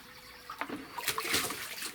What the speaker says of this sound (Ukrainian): Зараз набираємо води. Ось оце відро.